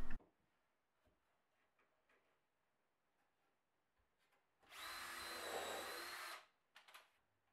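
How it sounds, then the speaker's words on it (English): Power drill driving screws into chunky scaffold board feet held in a vise for a tool box, one sustained whirring burst of about two seconds after a quiet stretch, with a short tail of noise afterward. "Get the first foot screwed on in the vise"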